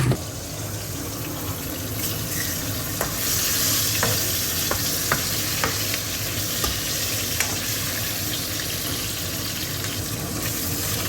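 Salted fish sizzles steadily in a pan, with a continuous frying hiss broken by occasional light taps and clicks.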